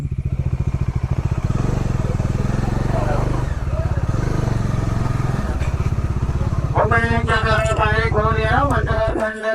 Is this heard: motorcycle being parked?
yes